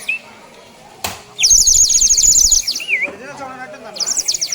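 A toy bird that imitates birdsong, picked up on the Alipiri footpath route to Tirumala, lets out loud, rapid electronic chirping trills in repeated bursts, with a sharp click before the first burst and voices in the background.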